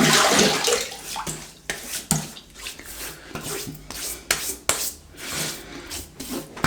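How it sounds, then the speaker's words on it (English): Water splashed and rubbed onto a face before a wet shave with a 1958 Gillette Fatboy razor, a series of close, irregular wet slaps and rubs with a soft rushing of water between them. "let's get the face wet"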